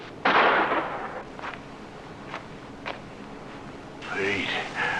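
A gunshot in the 1958 film noir Touch of Evil, a sharp, loud crack near the start that decays into a noisy tail, followed by a few faint pops and a rising voice at the end.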